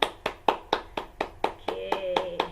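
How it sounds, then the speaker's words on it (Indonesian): Group hand clapping during an online business training session, about ten sharp, evenly spaced claps in a steady beat, close and clear, with a faint tone sounding behind the later claps. "Kemudian tepuk tangan."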